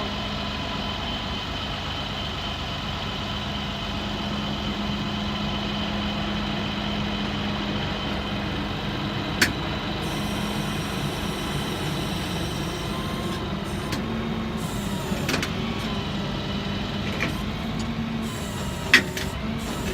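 Light-duty tow truck with its bed sliding down while the engine idles, a steady mechanical drone and hum held evenly throughout, with a couple of sharp clicks.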